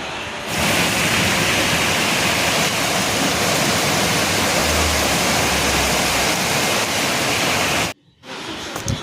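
The first monsoon rain of the Shravan month pours onto a rooftop as a loud, dense, unbroken hiss that cuts off abruptly near the end before faint sound returns.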